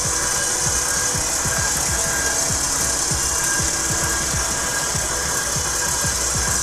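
A stand mixer paddle mixes soft butter with herbs, giving a loud, continuous motor hum with a rapid, regular thumping rhythm from the turning paddle, heard alone at close range.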